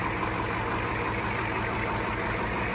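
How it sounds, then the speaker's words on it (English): Diesel Ford Highboy truck engine at normal idle, a steady low rumbling drone heard close and continuous with no talk. "This is its normal idle."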